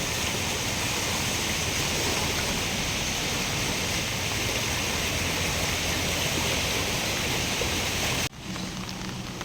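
Steady, loud rush of water flowing through a drain channel under a flooded road, a continuous broadband roar that dips slightly near the end, with no voices.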